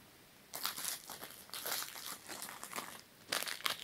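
Small plastic packets being torn open and crinkled by hand: bursts of bright, close crackling and rustling that start and stop in irregular clusters over a few seconds, with no voices.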